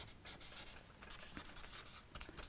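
Chalk or marker scratches across a classroom board in a quick run of short strokes and squeaks, faint and close, with no voices over it.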